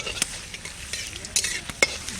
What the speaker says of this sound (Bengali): এই যে হচ্ছে শুকনো লঙ্কা, ব্যাস। একটু বেশি করে দিলাম, বুঝলে? ফোড়নটা সুন্দর রেডি হোক।